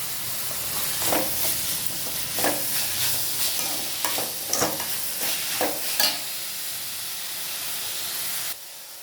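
Vegetables for fried rice sizzle and hiss steadily in a hot pan, with repeated bursts of stirring scrapes every second or so, close and fairly loud, ending abruptly as the sizzle drops away.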